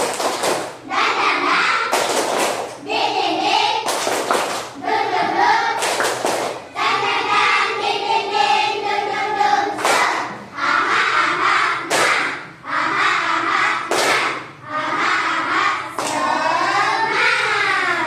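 A class of children performs a tepuk semangat clapping chant as an ice-breaker, with loud sharp unison claps punctuating chanted voices in a repeating rhythm, close and lively over about eighteen seconds.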